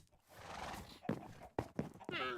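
Horses in a video game give a whinnying neigh and a few clopping hooves, faint and close, with no talk over them.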